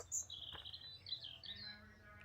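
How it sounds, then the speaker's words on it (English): Small birds twitter and chirp outdoors in quick, bright bursts, a few overlapping calls at moderate distance against a quiet background, with no talking. "I'm enjoying that twittering bird song."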